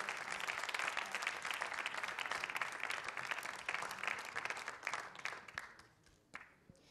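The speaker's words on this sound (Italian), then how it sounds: "Ancora un applauso per lei." A crowd at a memorial event in Rome applauds a singer, a steady roar of many hands that holds for several seconds, then thins out and fades near the end.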